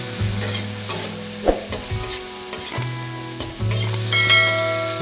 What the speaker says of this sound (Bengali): কেটে রাখা ফুলকপিগুলো দিয়ে দেবো, দিয়ে খুব ভালো করে ভেজে নেব